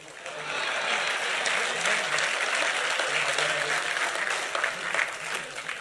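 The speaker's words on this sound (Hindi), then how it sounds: "लेकिन अब आपकी तालियां उठनी चाहिए।" An audience applauds at a Hindi satirical comedy performance, a full, continuous burst of clapping that rises quickly and stays strong throughout, with faint voices beneath.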